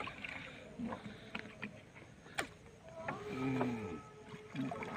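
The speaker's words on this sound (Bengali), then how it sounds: "নৌকা বাইতাছি হ্যাঁ। এই যে রানা ভাই নৌকা বাইতাছে" A wooden boat rowed on the Kakra river in Dinajpur, with faint splashes and creaks of the oar in the water, a thin whistle-like squeak, and distant low background noise.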